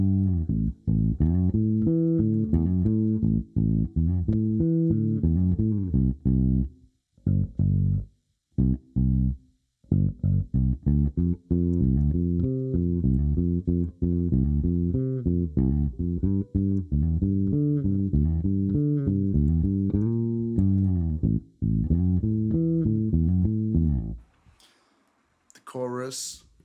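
The isolated bass track from a song plays a fast, melodic line of busy plucked notes with a few short gaps. It is loud and close, and a brief burst of other sound comes near the end.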